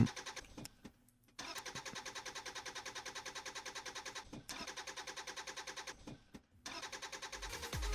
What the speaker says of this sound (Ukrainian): Не заводиться апаратик.